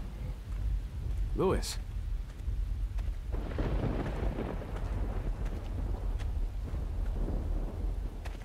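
Rain and thunder in the video game Resident Evil 4: a steady rain hiss runs throughout with low rumbling thunder, while a voice talks over part of it.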